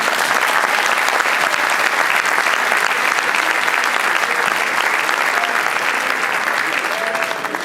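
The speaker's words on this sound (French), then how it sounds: "Je voudrais qu'on les applaudisse." A hall audience gives loud, sustained applause for the troupes at a Friday session, dense clapping continuing evenly throughout.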